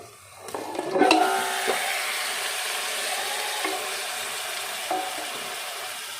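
Mutton is tipped into hot masala and oil in a pressure cooker and stirred. The clip has a loud, steady sizzle with a clatter as the meat goes in, then occasional scrapes and knocks from the spoon.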